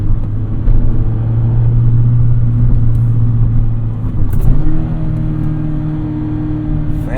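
A Mazda Miata ND1 engine drones loud and close from inside the car while driving, a steady tonal hum that dips at a gear change around the middle, then settles into a lower, even pitch.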